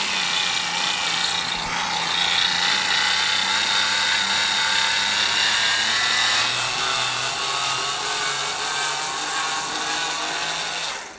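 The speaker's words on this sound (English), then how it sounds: "Not really a drill, more like an electric screwdriver." A small electric motor whirs steadily for several seconds, a continuous high-pitched buzzing with slight shifts in pitch, close and fairly loud.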